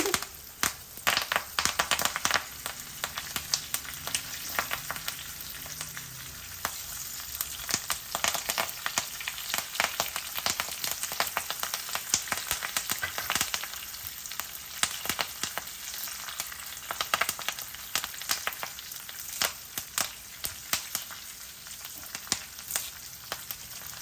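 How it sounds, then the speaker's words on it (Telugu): Curry leaves hit hot oil in a tempering for a cucumber chutney, a loud, dense, crackling sizzle that spits and pops continuously for the whole stretch, with no talking over it. "ఆపేసాక కూడా దీనికి గొడవ తగ్గలేదు చూసారా మన తాలింపు ఎంత చక్కగా వేసాను"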